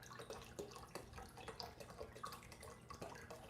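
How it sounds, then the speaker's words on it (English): Water runs and splashes into a cooking pot for boiling potatoes, a faint, steady trickle with small drips, heard alone with no talk. "let me just add a little bit more water in there."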